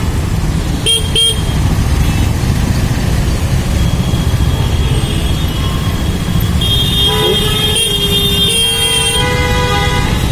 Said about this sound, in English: A lot of honking